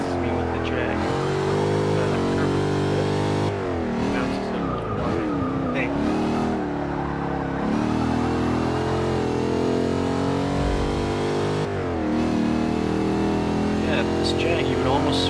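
A Jaguar XKR-S GT in Forza 6 revs and accelerates through corners, its engine note rising and dropping, with tire squeal and someone talking over it throughout.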